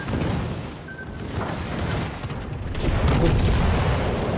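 Torpedoes strike a ship in World of Warships Legends during a massive naval brawl, producing loud, rumbling booms and blasts that build toward the end amid continuous battle noise.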